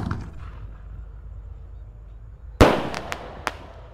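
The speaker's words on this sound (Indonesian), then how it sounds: "Kalau ini Bima Sakti Roman Candle ukuran 4 inci guys, yang lebih jumbo ya. Sudah menyala" A 4-inch Bima Sakti Roman Candle firework fires during New Year celebrations: a low rumble from the lit fuse gives way to one sharp loud burst, then a few crackling pops as the shots trail off.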